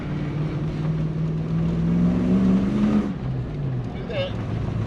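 An M90 supercharged Toyota Prado engine climbs a hill in a loud, close, steady drone that rises in pitch and then eases off, with voices present.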